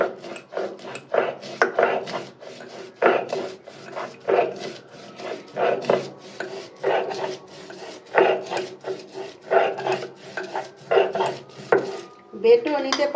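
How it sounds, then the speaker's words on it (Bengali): Green peas ground by hand on a flat stone grinding slab with a stone roller, making steady rhythmic rasping strokes roughly twice a second, close and clear with no talk. "এখন আমি শিলপাটায় মটরশুঁটিটি বেটে নেব।"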